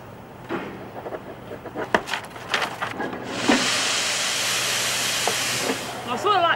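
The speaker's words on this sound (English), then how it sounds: "shushy noise it makes when the steam comes out" Steam bursts out of a machine in a strong, sustained hiss that starts midway and runs several seconds, preceded by scattered clanks and knocks, with faint voices nearby.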